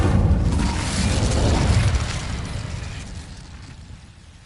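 A fire spell cast in the Hogwarts Legacy video game erupts in a broad whooshing burst that peaks early, then fades gradually over a few seconds, heard alone without talk.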